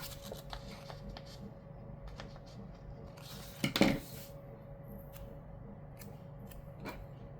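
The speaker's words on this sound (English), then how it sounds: "So I'm actually going to cut this and put it on the other corner." Scissors snip through paper while trimming a planner page in a quiet room, in faint sparse clicks with a louder rustling burst midway.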